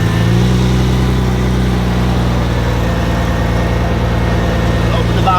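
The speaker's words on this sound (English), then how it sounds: "That's quite cold start." Toyota Soarer SC400 engine idling just after a cold start, a steady, even mid-pitched rumble that stays constant and close throughout.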